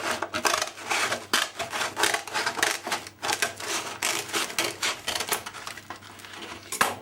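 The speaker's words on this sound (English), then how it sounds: "You can see why I'm using an old pair of scissors" Repeated crunchy snips and rough cutting strokes from an old pair of scissors, close up and steady for several seconds, with no talking.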